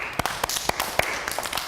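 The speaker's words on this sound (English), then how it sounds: "clap your hands" A group of people, likely children at a preschool gallery visit, clap their hands. The claps come close and sharp in an irregular scatter of about a dozen, with no talk over them.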